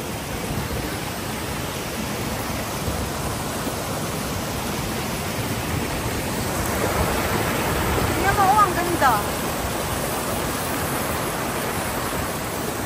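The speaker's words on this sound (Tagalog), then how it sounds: "O ngayon, sobrang laki ng tubig." Water rushes loudly and continuously at Taikoo, a broad steady roar that swells slightly partway through, with faint voices mixed in beneath the flow.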